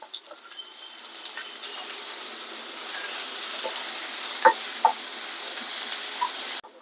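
Onions sauté in a pan with a gentle, steady sizzle, a few light clicks and taps of a spoon against the pan scattered through it, close and quiet, with no talking.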